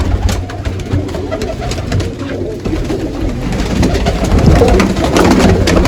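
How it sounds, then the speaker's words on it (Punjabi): Domestic pigeons in a fancier's loft coo up close and loud, with repeated soft throaty calls overlapping over a low background rumble. "ਵੇਖੋ ਨਿਖਰਿਆ ਕਬੂਤਰ"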